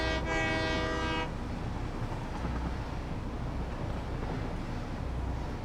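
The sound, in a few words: train horn honking in video game Satisfactory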